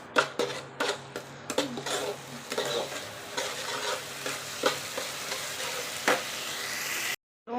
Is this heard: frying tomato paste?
yes